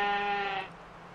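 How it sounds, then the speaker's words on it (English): A single sheep bleat from the video game Albert & Otto, loud and close with a clear harmonic voice, fading after about half a second into quiet background. "Oh, it's a sheep!"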